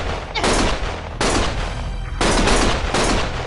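Gunfire in the video game Lost Judgment: dense, loud bursts of rapid automatic shots in three long volleys separated by short gaps, harsh and close.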